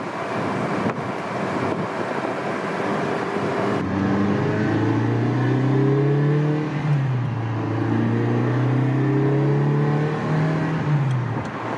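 Ferrari 328 GTS driving with the top open, its engine climbing and falling in pitch through revs and gear changes on a cold gearbox, steady wind rush over the cabin throughout, no talking.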